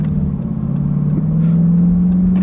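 Big Dodge Durango SRT SUV with a giant V8 and 8-speed transmission, its engine droning steadily up close with a low, rising hum that swells slightly as it revs, heard alone without talk.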